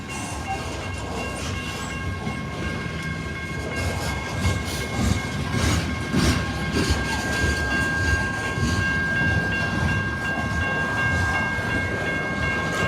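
A slow Paducah and Louisville Railway freight train rolls past close by, a steady sustained rumble of railcars with clicking wheels and brief tonal squeals, continuous and unbroken throughout with no voices.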